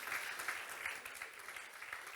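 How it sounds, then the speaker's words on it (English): Audience applause at the Lugano Happiness Forum, a quiet, distant, even wash of clapping hands from a crowd, held at a steady level. "They deserve a round of applause."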